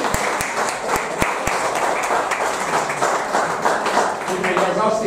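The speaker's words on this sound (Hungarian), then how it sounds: "Taps nektek!" An audience claps at a gathering, a few loud sharp nearby claps at the start standing out from the steady crowd applause, with a voice rising over it near the end.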